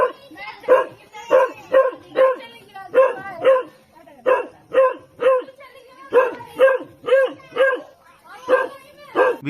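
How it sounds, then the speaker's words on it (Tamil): A house dog on the ground floor barks on and on during a night landslide, giving a long run of loud, close barks in quick repeated groups with brief gaps between bursts. "ராக்கி என்ற நாய் வழக்கத்துக்கு மாறாக தொடர்ந்து குரைத்து கொண்டிருந்தது"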